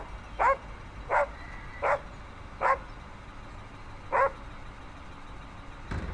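A dog barks five times in short, evenly spaced single woofs at moderate distance, each clearly separated by quiet gaps.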